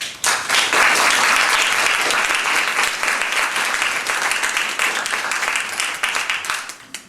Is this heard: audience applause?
yes